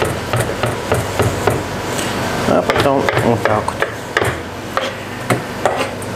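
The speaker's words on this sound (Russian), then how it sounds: "Далее берем ветчину куриную и мелко ее нарезаем." Repeated sharp knife chops on a cutting board finely cutting chicken ham, fast and uneven, while someone talks briefly over the rhythm.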